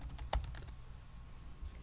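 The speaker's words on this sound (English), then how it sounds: "You can go ahead and start typing in the field." Quick clicky keystrokes on a computer keyboard during data entry in accounting software, a burst of taps at the start then sparse quiet presses, close and faint.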